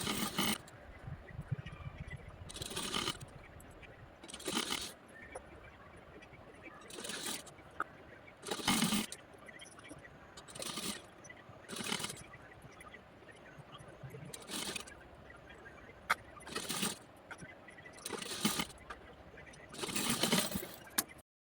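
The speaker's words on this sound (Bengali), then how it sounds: "সেলাই দিয়ে নিই।" A sewing machine stitches the back piece of a blouse in short bursts of rapid mechanical clatter separated by pauses, close and moderately loud, repeating about ten times.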